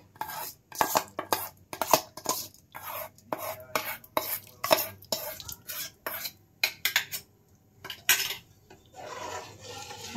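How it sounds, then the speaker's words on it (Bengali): A spoon scrapes and clinks against a pot as rice pudding made with date-palm jaggery and ghee is stirred over a lowered gas flame. The knocks come in irregular bursts with short pauses between them, close and fairly loud, and there is no talking. "এখন গ্যাস কমিয়ে দেব, দিয়ে শুধু নাড়তে থাকবো, মাঝে মধ্যেই নাড়বো"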